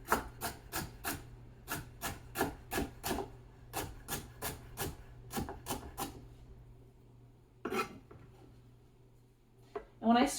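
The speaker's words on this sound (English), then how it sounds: "I just cut my celery into strips to make it easy" A knife chops celery into strips on a cutting board, making a steady run of quick, crisp taps close by, then a pause and a couple of scraping sounds.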